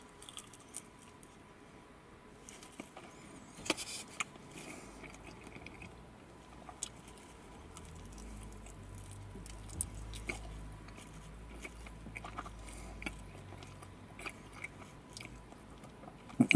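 Goheimochi eaten at a roadside station car park, with soft close chewing and biting, occasional squishy and crunchy bites, and small clinks and rustles over a low background hum.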